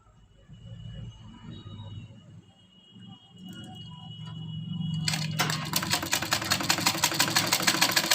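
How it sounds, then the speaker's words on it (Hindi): A sewing machine stitches around a kurti neck, starting after a low hum into a fast, even, rhythmic run of stitches that continues steadily to the end. "बिल्कुल बराबर से हम चलाएंगे इस पे सिलाई।"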